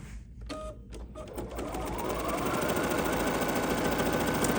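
A Kimberbell embroidery machine stitches a placement line, starting with a few sparse needle taps and then settling into a fast, steady mechanical whir that grows slightly louder.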